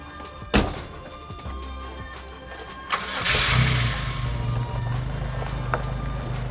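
A car engine cranks and catches after a door thunk, then settles into a steady mid-pitched run as the vehicle pulls away, the sound holding fairly loud with a few knocks along the way.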